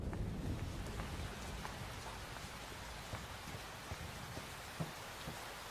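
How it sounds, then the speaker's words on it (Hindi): Steady rain falls continuously, a dense hiss of drops with a few sharper patters, fairly soft and with no voices. "आ जाओ, बारिश आने वाली है,"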